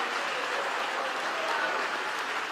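A church congregation applauds during a pastor's sermon with an even, continuous patter of many hands, fairly soft and diffuse, and no talk stands out over it.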